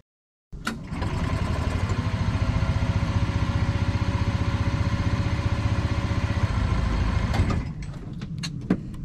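The small engine of an Acoma Super Comtesse microcar, bought for parts, catches and runs with a steady buzzing idle for several seconds before cutting out with a few faint knocks.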